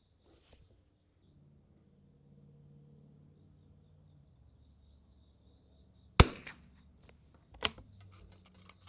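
Two sharp, loud rimfire reports from a BSA Martini International MKIII target rifle, spaced about a second and a half apart with short ringing tails, following a quiet stretch with a faint low hum.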